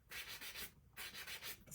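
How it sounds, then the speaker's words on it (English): A sanding block rubs back and forth across wood on a wine box, making rhythmic, close, scratchy strokes at a steady pace with no voices. "I'm just going to take my sanding block and just kind of smooth it down"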